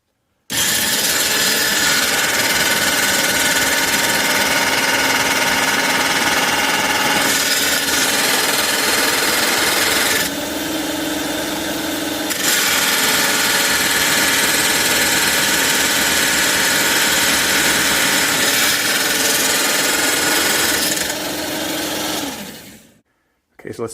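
A Mastercraft drill bit sharpener grinds a drill bit's cutting edges with a steady, loud, high whine, its tone shifting briefly midway before the motor stops abruptly.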